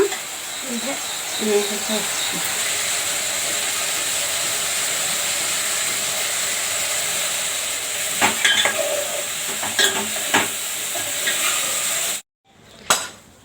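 Brinjal curry frying in a pan with steady stirring, a continuous sizzle running for about twelve seconds with occasional scrapes and clinks of the utensil, then cutting off abruptly near the end.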